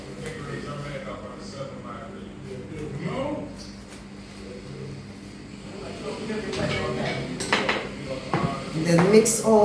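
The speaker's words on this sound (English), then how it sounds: "mix all these dry ingredients together" Dry ingredients for a Jamaican Easter bun, including nutmeg and cinnamon, are mixed in a bowl. A utensil scrapes and clinks against the bowl in irregular strokes, getting louder toward the end, with a voice heard at times.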